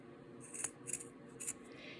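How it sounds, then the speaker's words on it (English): Scissors snip through reclaimed fabric close to the stitching of a quilt seam, three short crisp cuts spaced about half a second apart, close and fairly quiet over faint room hiss. "cutting this close to the stitching"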